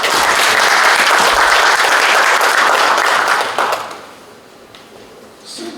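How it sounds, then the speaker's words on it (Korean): An audience at a smart construction safety forum claps loudly in a dense burst of applause that holds for several seconds, then fades to sparse claps. "박수 한번 더 크게 칠게요."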